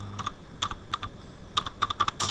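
Keys clatter on a computer keyboard while someone types a security question into Notepad, in quick irregular bursts of crisp, close clicks with short pauses between.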